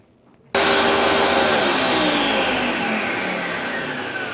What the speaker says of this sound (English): I'm gonna blend this baby up.